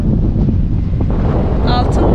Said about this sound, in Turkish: Çok fazla rüzgar esiyor